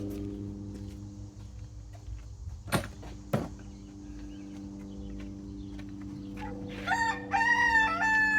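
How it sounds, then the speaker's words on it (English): A rooster crows loudly near the end, its call rising and holding, after a quiet stretch with a steady low hum and a couple of sharp knocks. "Oh, what a rooster."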